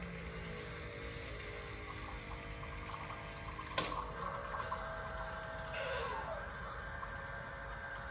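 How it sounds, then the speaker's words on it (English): A Bartesian Premium cocktail machine pours a drink with a soft, continuous liquid trickle and a faint pump hum, with a few small drips and clicks partway through. "I'm gonna just let that pour out"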